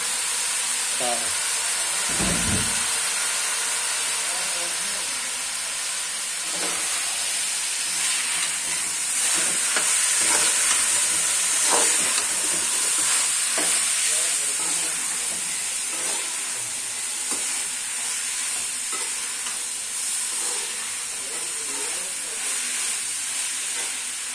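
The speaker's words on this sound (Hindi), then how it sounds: "इधर में कीमे को अच्छे से भून लेता हूँ" Minced meat frying in a pan while being stirred, a steady broadband sizzle and hiss running throughout with occasional scraping stir sounds, fairly close, with faint background voices.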